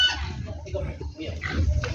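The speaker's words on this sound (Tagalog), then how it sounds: "Ayan po yung bibila namin ng baboy." A pig being fetched for slaughter on a countryside farm for a baptism feast grunts and oinks, mixed with nearby people talking.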